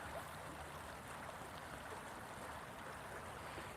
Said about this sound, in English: I love the water streaming.